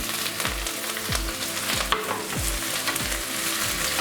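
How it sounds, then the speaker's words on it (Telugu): Green chillies and curry leaves sizzle steadily in hot oil for egg bhurji, with a spatula scraping and stirring the pan in regular strokes about every half second, close and continuous. "దీన్ని మనం బాగా కలుపుకుందాం. గోల్డెన్ బ్రౌన్ కలర్ వచ్చే వరకు ఫ్రై చేసుకుందాం."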